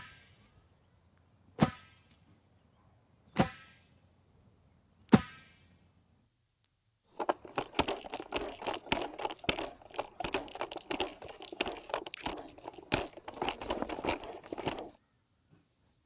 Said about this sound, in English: First one is the sound of water balloons being smashed against the concrete.